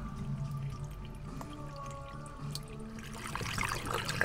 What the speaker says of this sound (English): We're going to try to pour some water down it to see how quickly it comes out at the other end.